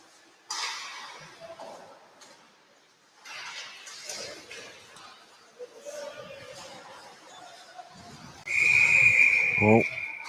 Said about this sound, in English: Not sure what the whistle's for.